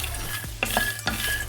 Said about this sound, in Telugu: ఒక 3-4 మినిట్స్ పడుతుందండి ఇవి ఫ్రై కావడానికి, పల్లి ఫ్రై చేసుకోవడానికి.